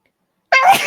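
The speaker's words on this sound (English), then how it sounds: "I'm going to sneeze." A single sharp, loud sneeze bursts out after half a second of silence, close to the listener.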